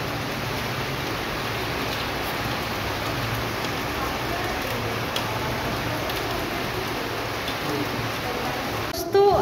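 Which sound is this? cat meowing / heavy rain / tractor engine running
heavy rain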